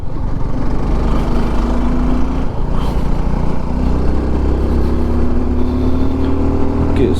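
A Suzuki V-Strom SX 250 motorcycle engine drones steadily while riding, with a loud, continuous hum, slight pitch rises as it accelerates, and wind noise throughout.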